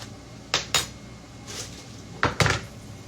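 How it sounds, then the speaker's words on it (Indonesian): A metal utensil clanks against a pan while rice is mixed with fried garlic, fried lime leaves and margarine in a home kitchen. Sharp scrapes and knocks come in uneven pairs over a quiet background. "kita campur dengan bawang putih goreng sama daun jeruk goreng"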